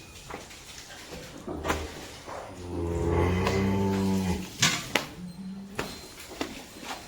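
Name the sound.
cows and calves mooing in a cattle shed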